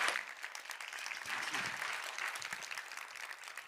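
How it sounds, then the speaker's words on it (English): Applause from an event audience, a steady wash of many hands clapping at moderate distance throughout. "So give him another round of applause"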